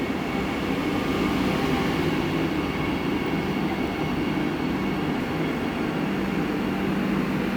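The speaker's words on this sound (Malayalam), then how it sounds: "വന്ദേ ഭാരത് വന്ന് ഒന്നാണ് ചെങ്ങന്നൂർ സ്റ്റേഷനിലേക്ക് നിൽക്കുകയാണ്" Vande Bharat train pulling into Chengannur station, a continuous low rumble and rolling roar of the carriages, steady and fairly loud, with no voices.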